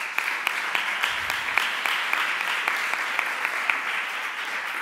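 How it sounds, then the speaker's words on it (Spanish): A room of people applauds the translators at a conference closing session, dense steady clapping from many hands sustained throughout, close and without speech. "Un aplaudiment per elles també."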